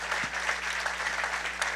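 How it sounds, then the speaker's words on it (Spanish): A church congregation applauds during a Spanish-language worship service, producing brief, fairly quiet clapping set against a low steady hum in the room. "Denle un aplauso al Señor."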